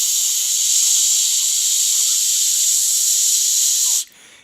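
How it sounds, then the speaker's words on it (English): A loud, continuous high-pitched hiss of steam venting from a pressure cooker valve, steady for about four seconds before cutting off abruptly. "here I am turning the valve, so we are releasing all pressure"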